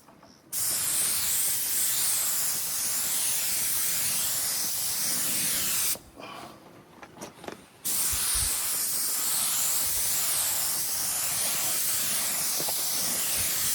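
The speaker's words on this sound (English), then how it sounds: "Now we're ready to spray this." A compressor-fed spray gun spraying lacquer on a nightstand hisses loudly in a long continuous burst, stops for a couple of seconds with faint clicks, then resumes spraying steadily.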